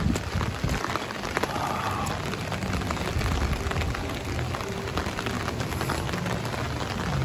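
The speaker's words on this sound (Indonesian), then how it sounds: "Ini hujan-hujan nih" Steady patter of rain falling on surfaces at a dinosaur park, a dense continuous hiss with occasional louder drops, fairly close and without talking.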